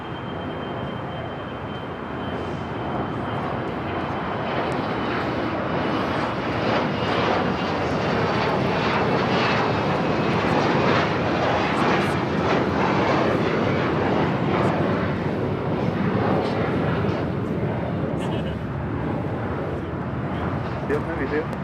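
An airliner takes off from a runway at Los Angeles LAX, its engines building into a loud, sustained roar that carries through the whole stretch, while radio voices talk over it.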